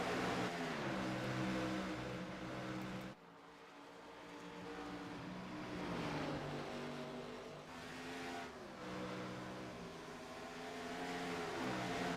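Race cars in an All American Cup Series race at Legacy Phoenix roar past in a loud, continuous engine drone, with pitch sweeps as cars pass and a brief dip near three seconds, no talk over it.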